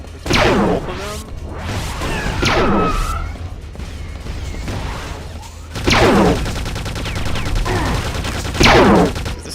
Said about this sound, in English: This guy is shooting shit out of me.